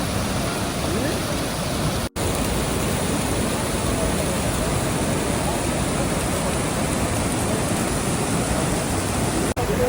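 Waterfall at a jungle spring in Guatemala, water pouring from rock: a steady, loud, broadband rush fills the whole stretch without a break, close and constant, with no voices over it.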